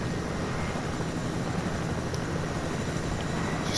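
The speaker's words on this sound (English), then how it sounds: "land our helicopter here" A helicopter landing in the Fortnite video game, a steady rotor and engine drone holding at an even level from start to finish with no voices.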